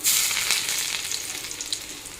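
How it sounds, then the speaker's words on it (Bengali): Chopped garlic and panch phoron frying in hot oil, a bright, loud, continuous crackling sizzle up close that eases slightly over a couple of seconds. "এখন দিয়ে দিই পাঁচ ফোড়নটা লাল হয়ে গেছে এখন দিয়ে দিই রসুন কুচি"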